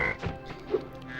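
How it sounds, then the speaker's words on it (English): A frog croaks in the Summer Forest level of the video game Spyro 2: two short, throaty croaks about half a second apart, close and clear over quiet game ambience. "Kill a few frogs."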